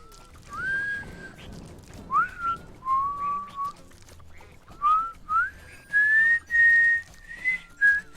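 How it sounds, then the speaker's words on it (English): Whistled melody from the Rayman Legends video game, a run of clear, sliding tonal notes in short phrases, some rising and some held, fairly loud over a soft background bed. "I can't get my whistling to sound like that."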